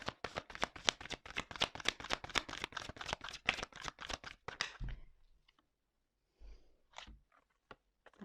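Tarot cards riffled and shuffled in rapid, rhythmic bursts for several seconds, then a pause with a few soft taps and flicks as cards are drawn, close up and quiet.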